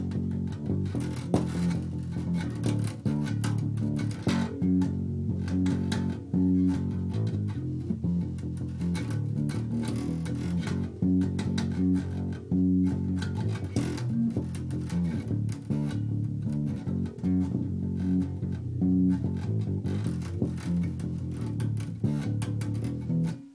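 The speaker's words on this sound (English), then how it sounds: "One more thing that you could do is play kind of a mashup between the piano and the violins, which would sound like this." Bass guitar playing a line that is a mashup of the piano and violin parts with octave jumps, as a steady run of repeated plucked notes, continuous and close with no talking.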